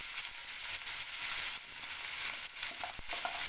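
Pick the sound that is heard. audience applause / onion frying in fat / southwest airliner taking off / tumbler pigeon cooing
onion frying in fat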